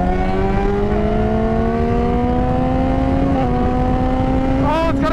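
A 2020 Yamaha R6 sport motorcycle accelerates with a loud, rising engine whine and snaps through quick-shifter upshifts, with a short dip in pitch at each change, heard close over wind noise.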